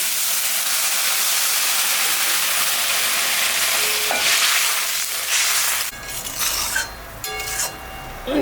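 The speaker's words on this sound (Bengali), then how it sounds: "মশলাটা ভাজা হয়ে গেছে আমি এখন সামান্য জল দিই" A little water poured onto a fried spice paste of green chilli, salt and turmeric for a fish curry, a strong steady hiss that bursts into sharper, uneven spitting and bubbling near the end, close and loud.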